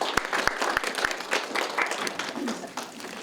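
An audience at a newspaper's literary award ceremony applauds the award winners: a few sharp, separate claps at first, then the clapping blurs into looser, fading applause with a faint murmur of voices.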